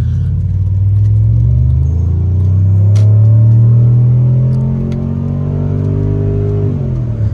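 A Dodge SRT-4 with a manual transmission accelerates hard, its engine drone rising steadily in pitch and loudness from inside the car before easing off near the end.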